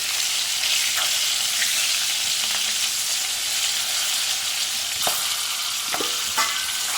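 Stuffed green chillies fry gently over a low gas flame, making a steady close sizzle broken by a few sharp crackles and pops, with no one speaking.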